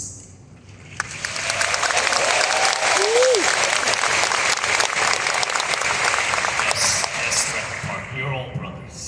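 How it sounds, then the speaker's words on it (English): Loud, sustained applause from a large crowd at a Jujutsu Kaisen panel at Anime Expo, swelling quickly and holding steady before tapering off, with a voice briefly heard over it. "Let's give another round of applause as if he's in this room with you."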